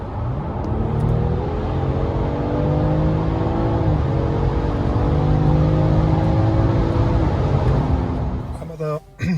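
A 2021 BMW 545e xDrive accelerates hard from around 80 km/h, its engine and road noise swelling into a steady, rising roar inside an enclosed tunnel, loud and close throughout.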